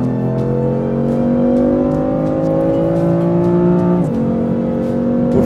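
A 2014 BMW M4's six-cylinder engine revs loudly and close, its pitch climbing steadily. It drops sharply at a gear change around four seconds in, then starts rising again, with no talk over it.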